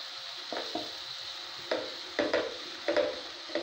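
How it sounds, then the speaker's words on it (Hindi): Onions fry in oil over a high flame, a constant sizzle broken by several distinct scraping strokes of a spoon stirring the pan, close by and without speech. "अच्छे से इसे चलाते हुए हम प्याज को अच्छे से तेल में फ्राई करेंगे"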